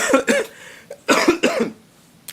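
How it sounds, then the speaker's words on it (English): Several harsh coughs in two clusters, close and loud, with short pauses between them and a faint final hack at the end. "This damn cough."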